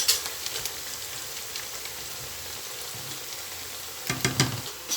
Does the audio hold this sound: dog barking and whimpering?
no